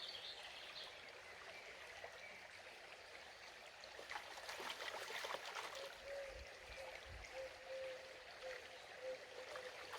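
Water sloshes and washes gravel around in a gold pan as it is rocked back and forth, a steady close trickling wash that swells briefly in the middle.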